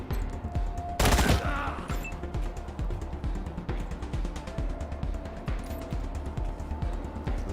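Gunshots in the turn-based game Wasteland 3, one loud close blast followed by a steady rapid rattle of repeated shots, alone without talk.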